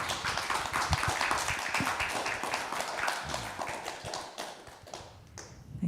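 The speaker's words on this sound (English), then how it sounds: "another round of applause to him" An audience at a religious talk applauds a speaker with dense, brisk clapping that fades out over several seconds.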